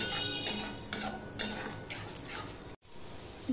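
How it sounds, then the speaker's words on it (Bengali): Spice masala with little oil is stirred and fried in a pan for a Bengali bata fish curry, bringing repeated close scraping and clinking of a utensil against the pan over a low sizzle, with a brief silent gap near the end. "মশলার গায়ের থেকে তেল ছাড়তে পারে, ততক্ষণ পর্যন্ত আমি কষাতে থাকবো এইভাবে"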